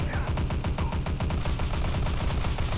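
An automatic weapon in the Fallout 4 game fires nonstop, a dense, even rattle of rapid shots filling the whole stretch, loud and close.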